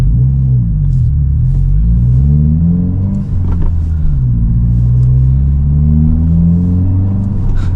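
A 2023 Subaru WRX fitted with an AWE Track Edition exhaust rumbles steadily nearby, its deep exhaust note rising and falling through several light revs, loud and droning throughout.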